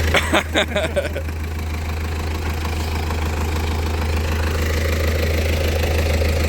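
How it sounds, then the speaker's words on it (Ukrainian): An MTZ-80 tractor engine runs close by during corn sowing, a rough rhythmic knocking idle that holds steady and loud, with brief clatter at the start. "Оце трактор."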